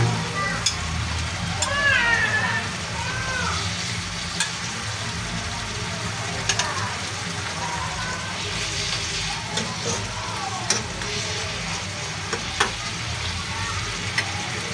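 Tuna chunks going into a simmering Bicol Express sauce, with continuous bubbling and sizzling close up and a few light clinks and stirring sounds over the steady boil.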